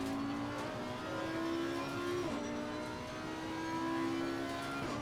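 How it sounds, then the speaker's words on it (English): A Mercedes AMG race car engine in Assetto Corsa Competizione, a steady high-revving whine that rises and dips through gear changes around a track, close and continuous with no talking. "Rework the sound of the AMG."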